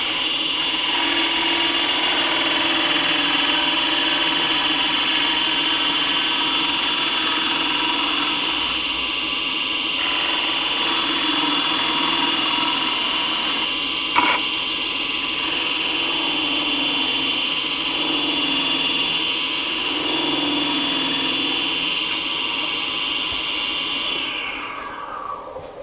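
A wood lathe spins steadily with a 60-degree gouge cutting the turning, a constant whirring drone with a faint scraping texture that holds for the whole stretch, briefly interrupted by one small knock, before winding down at the end.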